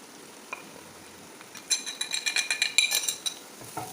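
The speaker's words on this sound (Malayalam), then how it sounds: "ഈ മസാലകളുടെ ഒരു പച്ച മണം മാറുന്ന വരെ നമുക്കിതിനെ ഒന്ന് നന്നായിട്ട് വഴറ്റാം" Spice powders for pepper chicken being sautéed in a pan: a quick run of clinking, scraping stir strokes from a spoon against metal over a faint sizzle, close and fairly quiet, with no talking.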